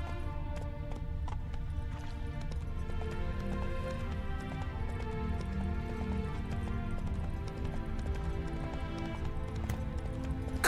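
Roach the horse in The Witcher 3 trotting with steady clip-clop hoof beats, quiet and continuous over a game music bed, with a brief whinny.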